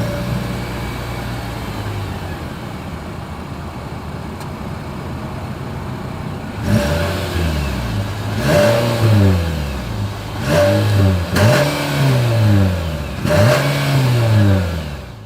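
A 2023 Nissan Sentra idles through its exhaust, then revs in a series of sharp, loud bursts that rise and fall, recorded close up outdoors with no talking.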